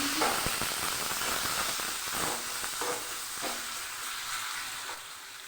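Boiled potatoes hit a kadai with onion and turmeric for an alur puri filling. A continuous, hissing sizzle carries through with soft, irregular stirring scrapes at moderate volume, and no voices.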